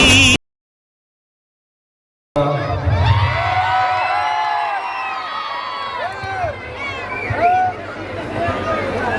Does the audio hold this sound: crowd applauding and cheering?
yes